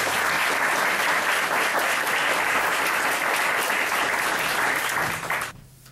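An audience at a village street event applauds a musician: dense, steady clapping for about five seconds, then a quick fade to near silence.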